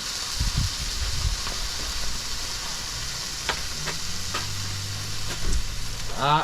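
Big steaks sizzle and fry in a pan at a camper trailer campsite after a storm, a steady close hiss with a few scattered pops and faint clatters.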